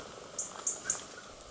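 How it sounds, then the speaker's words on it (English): Three short, high-pitched bird chirps a few tenths of a second apart, faint and distant, over quiet outdoor background hiss in a garden. "You can hear some of the birds now."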